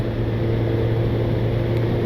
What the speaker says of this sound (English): One thing I do love about this bike, and one of the things that makes it not boring, is the noise.